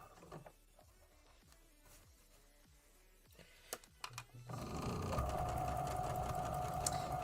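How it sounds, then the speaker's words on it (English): A sewing machine stitches fabric seams at speed, first a few scattered mechanical ticks, then a loud, steady whirring run of the motor and needle that continues to the end, with no talking. "I'm trying to sew as fast as I can"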